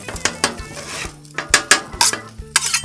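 Metal scraper clattering and scraping across a Blackstone griddle while scrambling eggs, a quick series of sharp close scrapes and taps over faint sizzling, with no voices.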